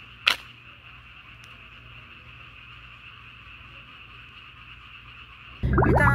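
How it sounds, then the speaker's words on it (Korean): A steady chorus of frogs croaking at night in Yecheon, South Korea, in a continuous trilling drone, with a sharp click near the start and a loud rumble cutting in at the end. "개구리 소리"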